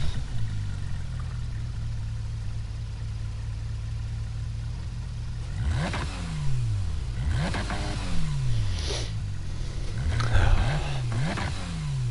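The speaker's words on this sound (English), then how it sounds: "I think this car's got a V6 engine" A Porsche 911 engine from Gran Turismo Sport idles steadily, then revs repeatedly in quick rising and falling sweeps that build into hard acceleration, loud and close with no talk over it.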